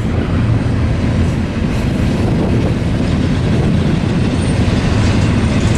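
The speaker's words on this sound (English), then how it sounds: "as the train, this westbound stack's going by" A westbound stack train rolls past near Barstow, a steady loud roar of wheels and cars with rhythmic clickety-clack, sustained close by for the whole stretch with no voices.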